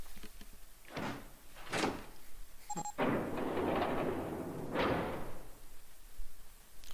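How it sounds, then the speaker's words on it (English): A door in the video game 999 (9 Hours 9 Persons 9 Doors) opens with a heavy sliding rumble after a short electronic tone, and a second whoosh follows as it shuts, fairly loud and without talk. "Door 3 opened, like a hungry mouth. 9 long seconds passed. And the door shut, unfed."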